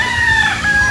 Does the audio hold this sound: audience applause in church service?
no